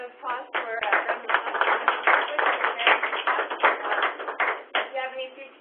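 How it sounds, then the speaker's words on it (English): Applause at the close of a webinar talk, sounding thin and band-limited, as though coming through a call or stream, with tonal fragments of voices mixed in. "I guess I'll give a hand of applause for Brenda."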